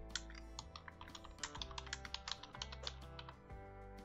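Keys clatter on a computer keyboard as an email subject line is typed, a quick irregular run of light clicks close to the microphone with a steady background hum underneath.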